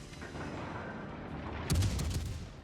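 A Koenigsberg cruiser firing at a carrier in World of Warships: Legends: a steady low battle rumble, then a sharp, loud volley of gunfire with a booming tail near the end.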